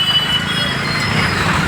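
A train rolls past a railway level-crossing gate, heard from a motorbike waiting at the crossing: a steady, loud rumble with rail clatter fills the whole stretch, with no clear talk over it.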